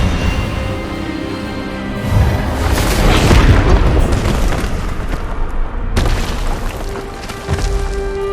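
An Expelliarmus spell blast from Hogwarts Legacy erupts as a loud, booming, explosive rush that swells and rumbles for several seconds, then cuts sharply into a fainter lingering tail.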